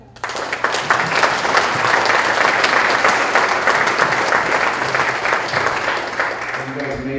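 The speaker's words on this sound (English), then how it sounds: "give yourself an applause right now" Sustained audience applause fills a room at a lifestyle company's national event, dense clapping and some cheering that runs steadily for several seconds and thins slightly near the end.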